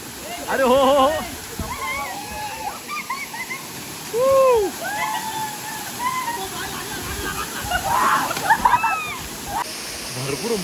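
Water splashes and churns at a hidden waterfall near Adgaon in Shrivardhan, a steady wash under bursts of bird-like calls and voices talking nearby throughout.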